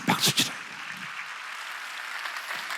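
A congregation applauds during a Sunday service at a Korean church, a few sharp claps opening into sustained, moderately loud clapping from the crowd.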